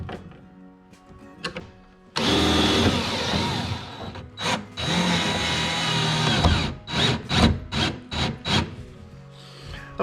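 A power drill drives screws to fit a side console kit onto a jon boat, with loud sustained bursts of whirring and grinding broken by short pauses and several quick trigger pulses near the end.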